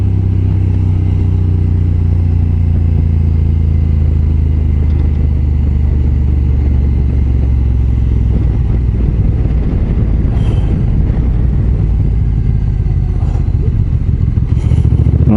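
A Honda NT 1100 DCT motorcycle engine roars loud and close while riding, accelerating hard to about 7000 rpm in sport mode, a sustained deep drone with rising rumble and wind noise, a few faint clicks late on.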